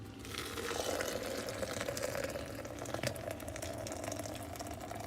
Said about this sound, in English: all you do is take the boiling water here, and you pour it in